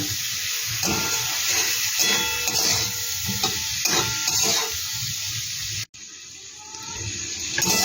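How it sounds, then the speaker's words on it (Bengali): Continuous hiss of spices frying lightly in a pan with salt for egg chilli, occasional scraping stirs, a brief dropout near the end, then the sizzle resumes. "এবার হালকা করে একটু ভাজা ভাজা করে নেবো আমি"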